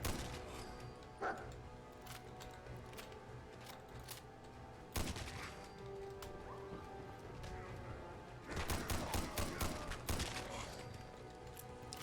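Gunfire in the video game Space Station 13, a few sharp shots and short bursts spread through the span over a steady layer of game noise, fairly quiet overall.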